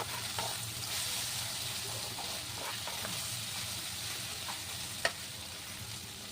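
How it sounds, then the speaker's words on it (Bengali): A little garlic fries lightly in a pan, producing a soft continuous sizzle with occasional faint stirring scrapes and one sharp click, heard close and without speech. "সামান্য রসুন, একটু হালকা করে ভেজে নেব"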